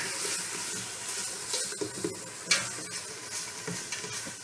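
Garlic for lentil soup sizzles steadily in a pan, a continuous close hiss with occasional stirring scrapes and small pops, no one talking.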